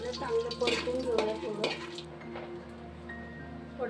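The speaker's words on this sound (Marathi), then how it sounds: "चांगलं परतून घेऊया." Garam masala spices are stirred and sautéed in about two small spoons of hot ghee in a pot for dum biryani, with a soft sizzle under close scraping and clinking of a spoon against the metal.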